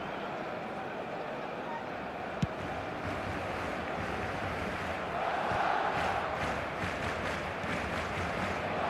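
Simulated football crowd in the eFootball video game, a continuous wash of stadium noise with a brief sharp click, then a swell of applause and cheers rising toward the end.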